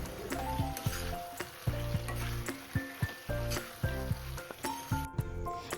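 A chilli jackfruit dish is stir-fried in a wok. A continuous hot sizzle runs throughout, broken by regular scraping knocks of the spatula against the pan.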